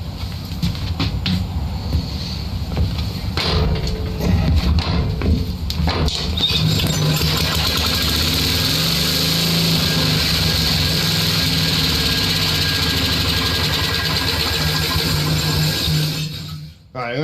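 A 1966 Simplicity Sovereign lawn tractor's 12hp Briggs & Stratton engine, run on choke, cranks with a few rough bursts and then catches into a loud, steady running drone close by that holds for several seconds before cutting off abruptly.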